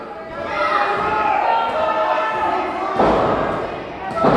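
A wrestler pounds an opponent's midsection with a run of heavy thuds and slams inside a wrestling arena, the impacts loud and close over steady crowd noise, with a commentator's voice running beneath.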